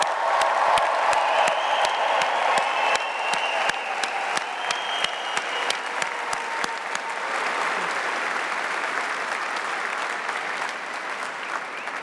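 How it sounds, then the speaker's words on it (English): Graduation ceremony audience cheering and applauding: dense, sustained applause from a large crowd in a hall, with whoops and cheers riding over steady clapping that thins slightly toward the end. "So I can hear some brave souls out there giving it a cheer"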